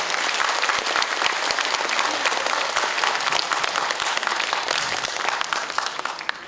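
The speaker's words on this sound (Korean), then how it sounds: "큰 박수로 맞이해 주시기 바랍니다." An audience breaks into sustained, loud applause to welcome a lecturer at a Yeongdeungpo special guest lecture, the clapping dense and steady for about six seconds with no voices over it.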